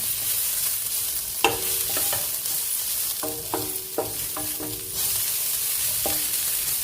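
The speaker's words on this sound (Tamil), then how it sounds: "இந்த கடாய் சூட்லேயே தேங்காய் நல்லா வறுபட்டுடும்" Grated coconut roasts in the residual heat of a hot kadai, a steady soft sizzling hiss with several metallic scrapes and taps of a stirring spoon against the pan.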